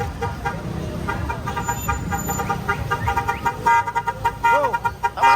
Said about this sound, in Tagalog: yung busina, gandang busina yun